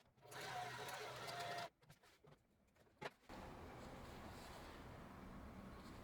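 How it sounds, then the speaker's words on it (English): A sewing machine stitches buttonholes on its automatic setting for a pair of overall shorts, a close steady whir that pauses with a click and then resumes for several seconds. "I marked and sewed each buttonhole with my machine's automatic buttonhole setting."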